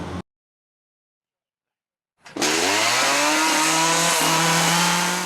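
After a brief silence, a chainsaw roars to life close by, revving loudly and steadily as it cuts into wood.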